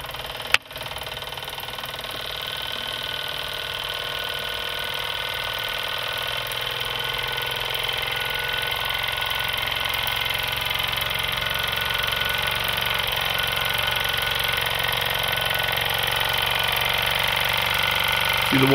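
Wilesco D3 toy steam engine running on steam, a steady fast mechanical chugging and hiss that holds an even pace throughout, with a sharp click near the start and the running getting slightly fuller over time.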